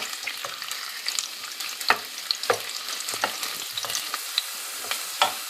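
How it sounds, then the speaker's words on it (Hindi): Garlic crackles and sizzles steadily in hot oil in a pan, with sharp pops and spatters scattered throughout; no voices. "तेल गर्म हो चुका है, अब मैं इसमें लहसुन डाल देती हूँ।"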